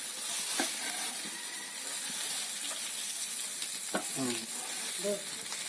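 Sliced estuary fish fry in a hot pan, a soft constant sizzle and hiss with a few scraping stirs and light clinks from a spatula, close but fairly quiet.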